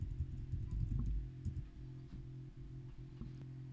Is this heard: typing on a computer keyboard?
yes